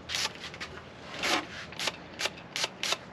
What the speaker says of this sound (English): So I'm just going to try and spray it.